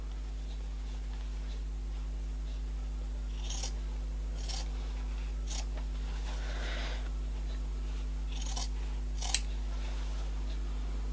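Small scissors snipping off excess material, several separate sharp cuts spaced a few seconds apart over a steady low electrical hum, close by and with no talk.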